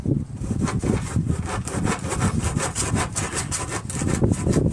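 A saw cutting into a dried fungus to make dust, a loud, close, rhythmic rasping of rapid back-and-forth strokes that continues throughout with no talk.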